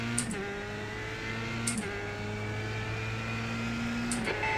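A Dallara F3 single-seater engine in iRacing at Tsukuba, revving up and climbing steadily in pitch, with brief dips at each gear shift; a loud, continuous whine with no voices over it.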